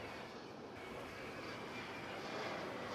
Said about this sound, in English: Embraer 175.